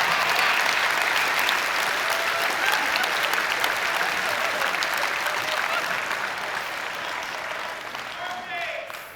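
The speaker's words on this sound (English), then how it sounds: "I'm getting a very hesitant applause from over there" Applause from a large audience at the EVE Fanfest 2012 presentation, a dense wash of clapping that starts strong and slowly thins out over about nine seconds.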